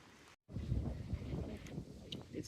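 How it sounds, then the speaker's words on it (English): Steady low rumble of strong wind buffeting outdoors at night, broadband and continuous after a brief dropout, with faint crackles on top. "It's an exceptionally windy night."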